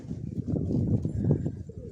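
Pigeons in Mykolaiv, Ukraine, cooing close by, a soft low burbling run of repeated coos lasting a couple of seconds without pause.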